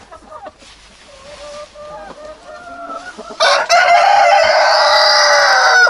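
A hen laying an egg in a backyard coop in winter: soft, scattered clucks, then a loud, close, sustained cackling burst that continues to the end.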